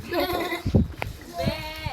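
Goat bleats come in short wavering bursts, one loud near call in the middle with fainter ones around it, mixed with children's voices calling out nearby.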